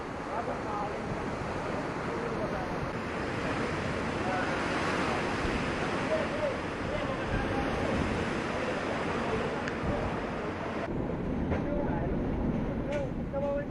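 Typhoon Yolanda's strong wind roars steadily with rushing surf beneath it, a dense unbroken storm noise buffeting the microphone throughout.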